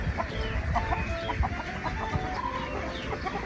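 Chickens clucking in a continuous, overlapping stream of short calls, fairly close and steady throughout with a low rumbling background.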